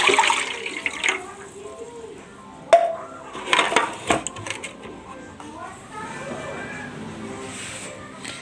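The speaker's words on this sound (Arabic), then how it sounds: "وهحط عليه ميه دافيه." Warm water is poured into a tray of fish stuffing mixture in a home kitchen, giving a splashing, gurgling pour with a few louder bursts midway and a softer trickle afterward.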